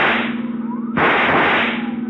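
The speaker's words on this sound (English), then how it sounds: "See if you can use that rifle, Dollar." A single sharp rifle shot cracks out about a second in as a radio drama sound effect, loud and close over a steady engine drone from a car chase.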